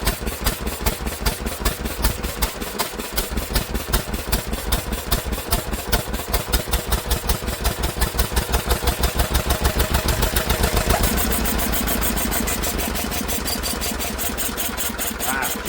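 An old Lister engine, first run after many years with a carburettor needing work, chugs loudly and close in a fast, even rhythm, then shifts near the end to a smoother, steadier drone as it falters.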